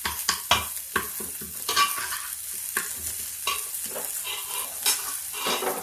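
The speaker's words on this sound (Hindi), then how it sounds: "अभी तड़का तैयार हो गया बस।" Tadka tempering for lauki and moong dal sizzles steadily in a pan while a spoon stirs and scrapes against the metal, close up and continuous, with no talk.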